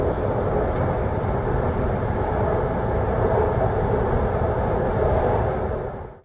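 A Sydney Metro train runs through a tunnel on a gentle curve toward Victoria Cross Station, with a loud, steady rumble of wheels and a faint high squeal that fades out at the end.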